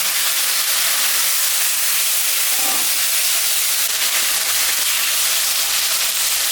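Potatoes sizzle in a pan of hot oil with fried onions, cumin and dried chillies, a steady loud hiss that holds evenly throughout, close up and uninterrupted.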